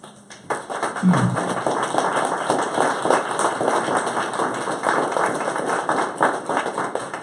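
Audience applause after a mayor's announcement, a dense steady patter of many hands clapping that swells in quickly and holds at an even level, close and alone.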